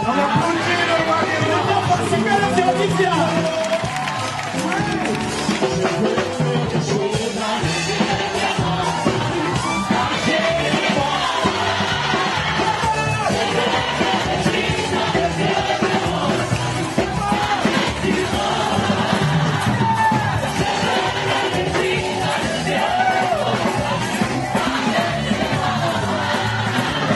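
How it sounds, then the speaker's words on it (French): A church congregation cheers and shouts during a worship service, a dense, loud wall of crowd voices and whoops that carries on without a break from start to finish. "On applaudit le roi."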